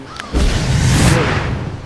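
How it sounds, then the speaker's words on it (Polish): Karthus's Q ability Lay Waste in League of Legends detonates as a loud, booming blast with a long rumbling tail, filling the moment alone after a brief high tone. "Jego umiejętność Q, Lay Waste, to jest taki... Robi taki..."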